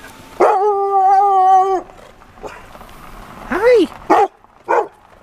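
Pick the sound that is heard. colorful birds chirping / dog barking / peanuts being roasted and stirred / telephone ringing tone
dog barking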